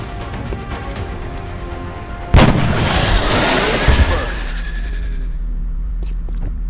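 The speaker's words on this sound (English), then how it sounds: "Switch over to sniper rifle." A sniper rifle fires in the XCOM video game, one loud sharp blast with a rumbling, echoing tail that fades over a few seconds amid game background sound.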